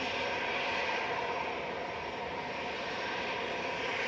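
A Hainan Airlines Airbus A330 approaching to land, a steady broad engine roar filling the whole stretch at a moderate distance, even and unbroken with no voices.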